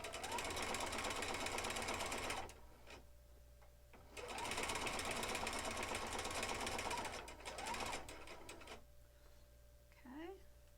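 A sewing machine stitching quilt pieces together runs in two long, steady whirring bursts, close and fairly quiet, pausing between runs while a person talks softly.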